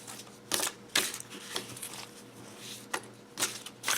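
A deck of Touchstone tarot cards printed on cardstock is riffle shuffled: several short, crisp bursts of fluttering card edges, each followed by a snap as the halves meet, close and fairly quiet.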